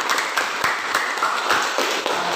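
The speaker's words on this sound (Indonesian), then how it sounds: "tepuk tangan" A class of students applauds during a long jump lesson, a steady patter of many close, overlapping hand claps filling the room.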